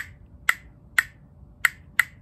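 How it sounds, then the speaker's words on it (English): A wooden castanet clicking four times at an irregular pace, each a sharp, dry, close snap with a short bright ring, alone against a quiet room. "Aha, I have a castanet."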